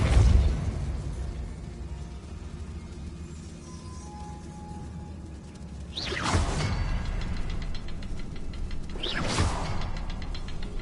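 A fire spell cast in the Hogwarts Legacy video game, two loud bursting whooshes a few seconds apart over a low ambient rumble, with no talking.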